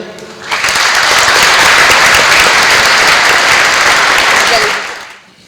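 A conference audience in Montreuil applauds the Lebanese delegation, dense clapping swelling in after a brief lull, holding steady and loud for about four seconds, then tapering off.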